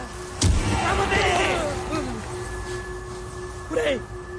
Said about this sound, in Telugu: పేలింది గుమ్మడికాయ కదా